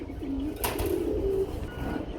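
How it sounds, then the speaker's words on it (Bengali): Grizzle pigeons at a loft or breeding farm give a brief low coo, a single soft call near the middle, over steady background noise. "এক জোড়া গ্রিজেল কবুতর"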